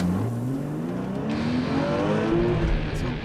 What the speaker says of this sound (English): Brian, our safety trainer and driver, is actually going to take this run at 120 miles an hour across the rainy tarmac